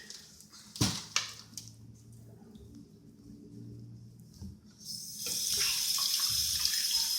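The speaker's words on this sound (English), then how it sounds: "We're going to wash our hands." A household tap runs for handwashing with a toddler, with a few knocks and handling sounds first, then a low hum, before the water bursts on at about five seconds and streams steadily and close until the end.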